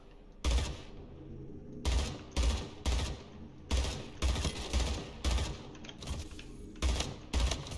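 Rapid automatic gunfire in the arena shooter Splitgate, fired in about eight short bursts of a second or less each, loud and close with sharp cracking reports and brief quiet gaps in between.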